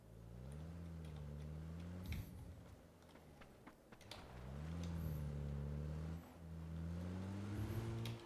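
A car engine in the video game PUBG: Battlegrounds hums steadily and shifts pitch as it revs and pulls away, with brief dips between gear changes, moderately loud and alone.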